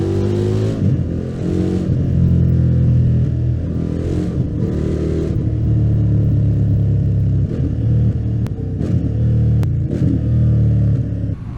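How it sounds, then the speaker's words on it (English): An Indian Scout Classic cruiser motorcycle engine revving hard, loud and close, with rising and falling surges of acceleration and a deep, aggressive rumble, no talking over it. "just how sporty this bike is. When you get on it, oh my, is this thing quick, and oh my, does it sound aggressive"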